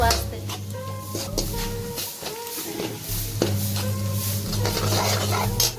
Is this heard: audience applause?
no